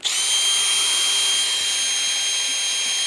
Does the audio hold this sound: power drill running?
yes